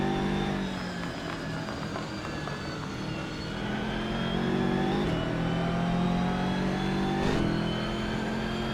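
A BMW M2 racing onboard in a sim racing game revs with a steady mid-pitched engine drone, its pitch rising and shifting through gear changes, and is heard alone without talk.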